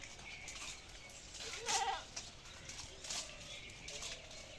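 Goats kept in a farm shed, one short bleat standing out briefly amid faint rustling and background room noise, fairly quiet and without talk.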